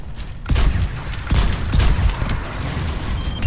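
Bastion's ultimate ability in Overwatch 2 unleashes a run of heavy booming blasts with mechanical clanks, several impacts rolling over about three seconds at close, loud range with no talk.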